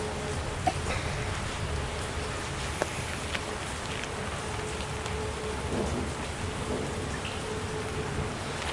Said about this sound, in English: Got rain still coming down here.